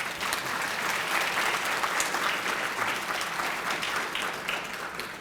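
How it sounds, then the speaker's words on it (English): Sustained audience applause fills a hall at a school academic excellence banquet, a dense, steady crowd clapping that holds at even loudness throughout before easing slightly at the end. "Please, one more round of applause for Natalie."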